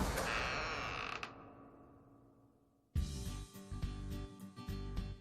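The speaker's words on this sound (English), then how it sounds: "Then the minister heard the church door creak." An old church door creaks open with a long, grinding groan that fades, followed by a louder, rougher creak of wood and hinges, close and prominent.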